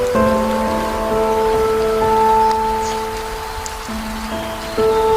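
Steady rain falls on a surface in a continuous soft hiss, with sustained tonal music-like notes layered over it throughout.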